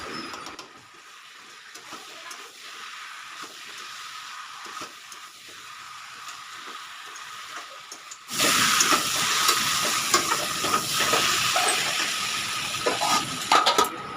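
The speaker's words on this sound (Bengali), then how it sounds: "পটল আলুর সঙ্গে ভালো করে কষিয়ে কষিয়ে" Pointed gourd and potato sautéing in spices, a soft hiss and faint scraping at first, then a loud, steady sizzle that takes over for the last several seconds, with no voices.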